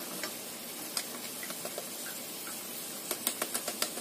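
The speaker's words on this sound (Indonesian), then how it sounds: "Kita goreng yang selanjutnya." Potato snacks fry in hot oil in a home kitchen, giving a steady close sizzle with light ticking pops that cluster more densely toward the end; no one speaks.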